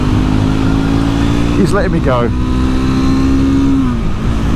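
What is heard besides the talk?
Triumph Scrambler 400X motorcycle engine while riding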